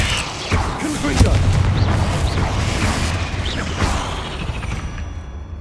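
Confringo blasting spell explosions in Hogwarts Legacy, loud booming impacts with rumbling fiery bursts and whooshing magic over dense battle noise, a voice speaking underneath.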